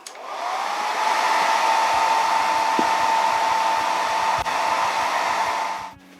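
A hair dryer blows on a burn hole repair in a coating, a loud steady whine that ramps up, holds with faint ticking underneath, and cuts off at the end.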